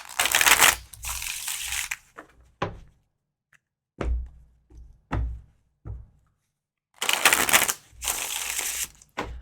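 Tarot cards being shuffled in two long riffling bursts, with soft taps and thuds of the deck being squared in between, close up.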